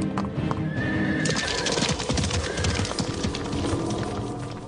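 Horses that once pulled tourists around Times Square and Central Park neigh loudly and repeatedly over a busy clatter of hooves clip-clopping close by.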